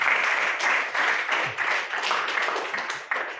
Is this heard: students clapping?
yes